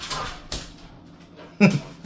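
Dogs whimper and yip in short bursts while playing, with a sharper cry near the end, close by amid light background noise.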